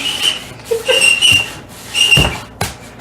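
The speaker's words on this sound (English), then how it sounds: "squeaking is horrible, though. Sorry about the squeaking, folks." Sharp, high squeaks repeat close by while plastic wrap is pulled and stretched around pork butts, coming in several bursts with brief rustling between them.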